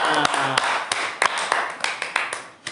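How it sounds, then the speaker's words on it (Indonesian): Scattered claps from a small audience at an Indonesian talk-show gathering after a game, irregular and fairly close, under a voice speaking at the start. "Tepuk tangan dulu buat kita semua"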